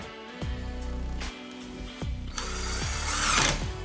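A cordless power tool drives screws into plywood in short bursts, each whirring run ending with a drop in pitch. Several runs follow one another, and a louder, brighter burst comes near the end.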